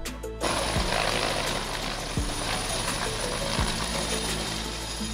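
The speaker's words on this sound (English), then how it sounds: "Search and Rescue Helicopter." A search and rescue helicopter gives a loud, steady mechanical whir with a rhythmic rotor chop and a few heavier thumps, close by and without any speech.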